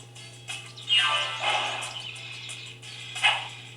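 A sheepdog in the game Sheep, Dog 'n' Wolf, played on an Xperia Play, gives a few loud, bright barks in separate bursts over a steady low electronic hum, with no talking.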